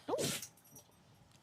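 A puppy gives one sharp, quick sneeze up close, followed by faint quiet and a soft snort or small dog sound at the very end, all fairly low in level.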